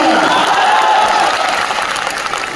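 A large crowd at a Jan Suraj political rally in Bihar claps loudly and continuously, a dense wash of applause that stays strong throughout and eases slightly toward the end.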